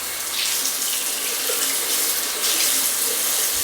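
Water runs steadily from a tap while rinsing a belly button piercing, a continuous broadband hiss and splash with no talk.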